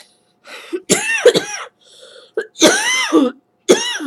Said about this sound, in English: That cough is going to be annoying all day